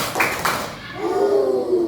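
A group claps a short 'tepuk semangat' cheer chant, two sharp, close claps ringing out before a voice takes over.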